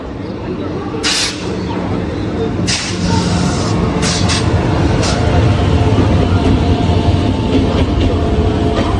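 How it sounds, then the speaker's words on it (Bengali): A Bardhaman–Howrah chord line super local train rumbles loudly and continuously at speed, with rattling and a few sharp high-pitched bursts of wheel screech or horn. "ভারতের দ্রুততম লোকাল ট্রেন"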